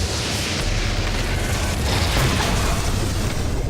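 A rocket blast in Doom 3 Lost Mission VR fills the moment with a loud, dense roar of explosive noise that stays heavy and continuous throughout, with no voices.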